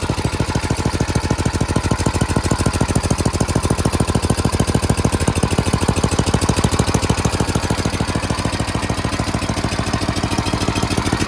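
A snowblower engine idles steadily close by, a loud, fast, even chugging pulse with a rattly mechanical edge that runs unchanged throughout, with no voices.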